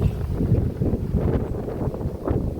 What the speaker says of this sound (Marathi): वारा तर लय चालू आज